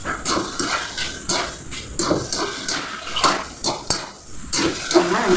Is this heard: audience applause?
no